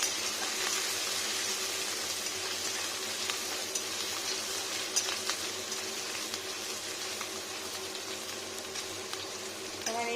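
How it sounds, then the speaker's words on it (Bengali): Ginger and onion fry in a pan for a chicken kosa, giving a soft, even sizzle that continues steadily, with occasional faint stirring taps and no talking. "আদাটা ভাজা ভাজা হোক"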